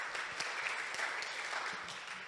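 Church congregation applauding after a weekly worship service meal, a steady, dense wash of many hands clapping that fills the room evenly for the whole stretch, moderately loud with no pauses.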